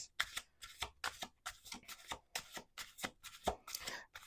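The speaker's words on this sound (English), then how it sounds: "we're going to do one more shuffle" A deck of tarot cards being shuffled by hand, with a steady run of crisp riffling bursts, each about half a second apart, close and clear with no talking.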